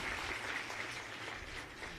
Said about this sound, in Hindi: फिर से जोरदार तालियों